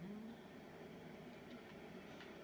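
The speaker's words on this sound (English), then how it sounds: "There's another train." A passing train in a train simulator game, heard as a faint steady rumble with a soft rolling rail texture. It stays even throughout, with no voices.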